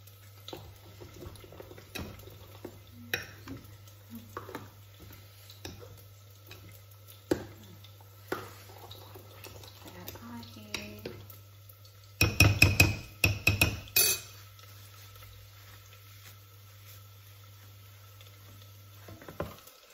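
Palak (spinach) with garlic stirred in a pan, with soft scraping and light sizzle close by, then a burst of louder clattering stirring near the middle before it settles back to quiet, low hum underneath.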